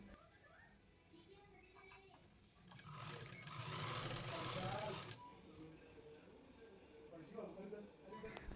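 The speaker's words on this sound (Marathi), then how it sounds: "दोन्ही टोकं व्यवस्थित जुळवून घ्यायची आहेत आणि शिलाई करत जायचं आहे" A sewing machine stitching a gown seam: a soft whirring run that swells for a couple of seconds in the middle, with quiet handling of fabric around it and someone talking under it.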